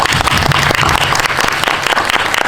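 Loud, dense applause from a theater audience at a Korean film talk event for Dream Palace, close and continuous with crisp overlapping claps and a low rumble of room noise.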